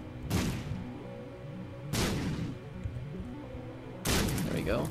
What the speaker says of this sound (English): Looks like I need to actually lay a bomb.